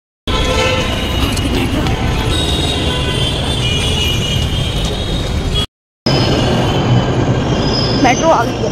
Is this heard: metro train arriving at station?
yes